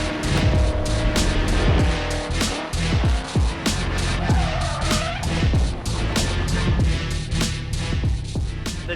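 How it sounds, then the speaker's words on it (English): A Gen 2 drift car revs hard and screeches its tires repeatedly at Watkins Glen, engine pitch swooping up and down, loud and close, mixed with background crowd noise. "The Gen 2 drift car, Nick hit a tire wall with it."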